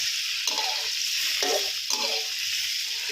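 Fresh shrimp stir-fried in oil in a pan, a loud continuous sizzle close up with rhythmic scraping and tossing of the spatula every half second or so.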